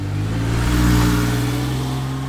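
A Volvo 240 car engine revs up close and loud, a steady throaty drone that swells and then eases slightly, with no voices.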